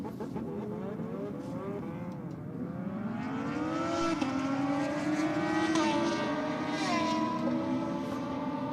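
Drag racing motorbikes on a track, a loud sustained engine roar climbing steadily in pitch as the bikes accelerate, heard from a distance with no talk.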